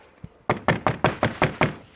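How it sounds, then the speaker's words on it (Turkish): Seven firm, evenly spaced knocks land on a door close by, with one faint tap just before the sequence. "Kapıyı çalıyorum ben."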